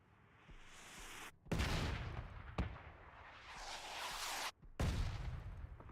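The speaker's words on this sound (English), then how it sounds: "Oh, mortar fire coming in." Incoming mortar fire during a competitive video game league match, two heavy booming impacts with rumbling tails over a steady background whoosh, the second blast landing a few seconds after the first.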